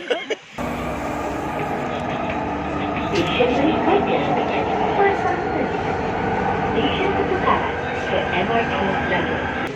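An elevated LRT train pulls into a Malaysian station, its steady rumble and wheel noise filling the scene at moderate level, while people talk over it.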